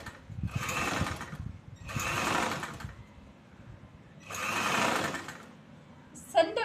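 Sewing machine top stitching along the curved edge of a choli blouse, running in three steady bursts of about a second each with short pauses between, close and moderately loud, ending with a brief handling click.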